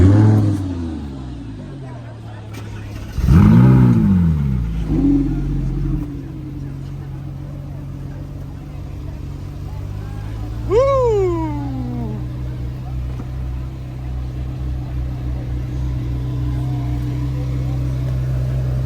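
A Ferrari or Lamborghini supercar driven in Monaco, its engine revving and rising in pitch as it accelerates in several loud surges, then settling into a steady drone, with murmured voices in the background.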